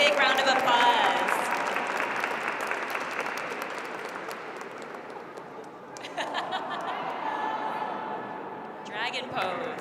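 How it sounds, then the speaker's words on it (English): A crowd at a Lunar New Year school event claps, a full round of applause that fades over several seconds, followed by chatter, scattered laughter and voices. "Big, big round of applause."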